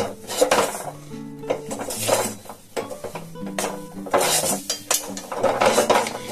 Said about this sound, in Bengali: এই যে এবার চিনির গুঁড়োটাকে এর সাথে মিশিয়ে দেব।